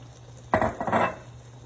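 Old-fashioned oats pour into a pot of chocolate peanut butter no-bake cookie mixture, a soft rushing patter that starts abruptly and runs about a second, close and moderately loud with a faint steady hum beneath.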